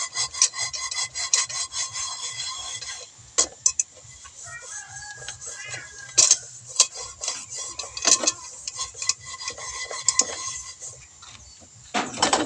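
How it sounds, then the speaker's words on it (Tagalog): Steady rough scrubbing and rasping against a soot-blackened metal cooking pot from a wood fire, in repeated strokes with a few sharp knocks and scrapes mixed in. "mga kawali ay mauling kaya lilinisin na kaagad natin"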